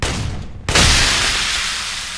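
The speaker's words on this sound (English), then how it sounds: "I hate that acid explosion." An acid explosion in the video game Aliens: Colonial Marines bursts loudly mid-match, a sharp blast that follows a brief stretch of lighter gunfire-like noise and leaves a sustained, slowly fading hiss.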